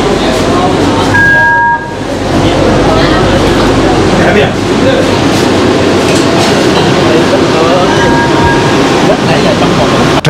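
A Malaysian train arriving at KL Sentral rumbles loudly and continuously with rail clatter, a brief high tone sounding twice, and people talking beneath the noise.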